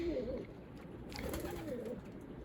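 Healthy pigeons at the end of their moult give low, rolling coos in two or three drawn-out phrases, close by, with steady background noise underneath.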